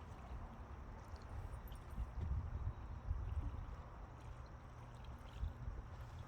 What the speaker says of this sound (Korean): 물소리가 잔잔잔 들리죠